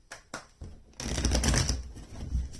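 A deck of tarot cards being shuffled up close: a few quick separate riffles, then a dense, continuous flurry of papery card clatter lasting over a second.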